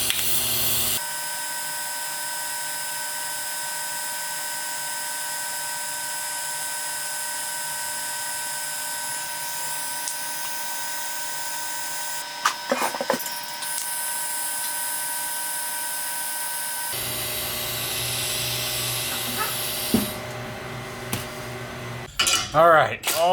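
Exhaust pipes for a turbo K24 Nissan Cefiro being welded: a steady electric buzz with a faint hum runs throughout, and brief metallic clatter breaks in near the end.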